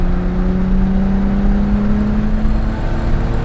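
A Nissan Skyline GT-R34 accelerating hard down a track straight, its engine a loud, steady drone rising slightly in pitch over a few seconds, close and continuous with no talk.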